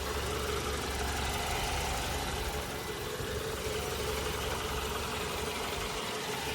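MG GT Alpha car engine idling steadily throughout, a continuous low hum with a faint mechanical rattle, heard close and alone without talk.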